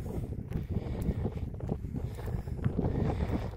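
Steady, rumbling wind buffets the microphone outdoors at a drone flying field, a dense low roar with gusty swells and no voices.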